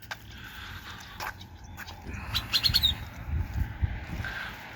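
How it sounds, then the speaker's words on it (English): Birds chirp outdoors near a parking area by the Los Algodones border crossing, a few short bright calls scattered over a low ambient rumble, moderately faint with no talking. "Birds, nature."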